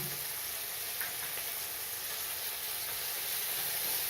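Curry leaves sauté in a hot pan for an egg pepper gravy, giving a steady, even hiss of sizzling oil that holds at one level without a break.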